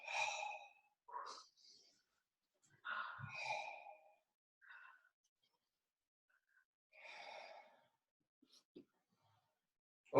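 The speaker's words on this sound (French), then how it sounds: "Ok, respiration abdominale." Abdominal breathing during a yoga exercise: several soft, airy exhalations and sighs in separate bursts with long quiet gaps, close and faint.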